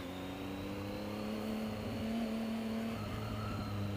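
Steady engine drone of a Triumph Speed Triple S motorcycle while riding in traffic, a low sustained hum with shifting tonal pitch and wind noise, held at an even moderate level.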